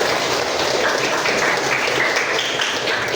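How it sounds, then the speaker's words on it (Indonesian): Students and their Islamic studies teacher applaud together in a classroom, a steady, dense wash of many hands clapping at once, loud and continuous with no talk over it. "Tepuk tangan dulu untuk kita semua."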